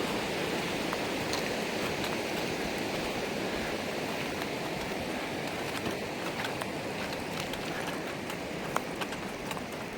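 A river rushes steadily beside a campsite along the John Muir Trail in the Sierra backcountry, a dense, unbroken wash of flowing water heard close and evenly throughout with no voices.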